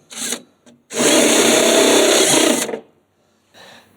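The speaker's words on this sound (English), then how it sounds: "It's always scary to drill a new painted engine bay" A power drill whirs in short bursts into a newly painted car engine bay: a brief spin, then a sustained two-second grind, and another short burst after a pause.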